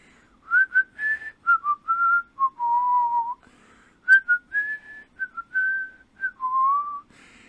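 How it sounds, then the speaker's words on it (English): A person whistles a tune, a clear melodic run of short and held notes with pauses, fairly close and alone, a voice-free storytelling-style whistled melody. "he heard someone walking down the street whistling"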